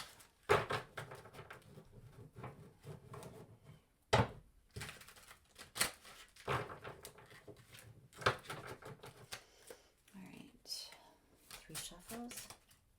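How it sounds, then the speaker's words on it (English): A deck of tarot cards being shuffled by hand, with soft irregular riffles, taps and slaps in quiet bursts, close and faint against a hushed room. "let's hope these cards will shuffle for me"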